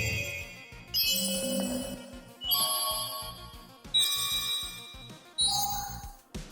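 Custom Twitch bit donation alert sound effects: a series of bright, chiming ringtone-like jingles that step up one after another like level-up cues, each burst ringing and decaying before the next.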